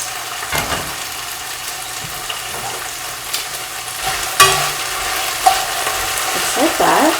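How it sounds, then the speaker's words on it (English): Green beans fry in a hot pan while a utensil stirs and scrapes them around, producing a continuous sizzle broken by a few louder knocks and scrapes up close. "every few minutes I was stirring the beans around"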